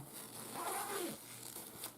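A small zipper bag for a heated item is zipped in one smooth, soft pull with a faint ratcheting rasp close by, followed by a quiet brief rustle.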